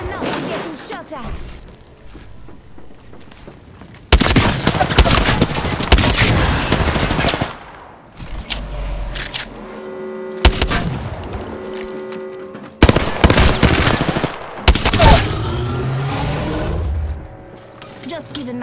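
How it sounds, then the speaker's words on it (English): Gunfire aimed at the player in a video game comes in loud bursts of rapid shots separated by brief lulls, with game tones and effects mixed between the volleys. "Listen up, I'm getting shot at."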